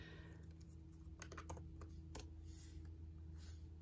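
Quiet, close keystrokes on a MacBook keyboard come in quick irregular bursts of light clicks over a low steady hum, with no talking.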